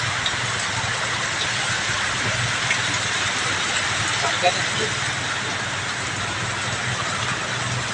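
Steady heavy rain hissing loudly on surfaces, a constant wash of noise with a faint voice barely audible beneath it.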